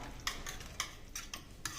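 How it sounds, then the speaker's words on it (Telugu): Fresh yogurt being whisked in a bowl to smooth out lumps: a quick series of about six crisp, rhythmic stirring swishes and taps, close and fairly soft. "ఈ పెరుగుని కొంచెం మనం ఈ విధంగా అంటే గడ్డలు లేకుండా ఈ విధంగా చిలుపుకోవాలన్నమాట"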